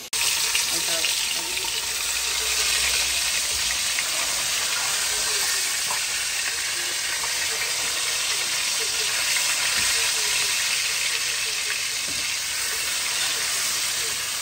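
Tenderized beef frying in very hot oil, a steady broadband sizzle and hiss that holds loud and continuous throughout, with no pauses.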